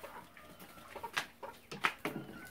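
A chick clucks and peeps in short, soft, scattered calls at close range, with no voices.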